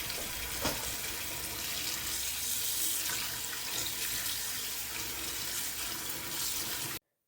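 Fresh mint leaves are washed under running tap water, a steady, close splashing stream that lasts about seven seconds before cutting off sharply.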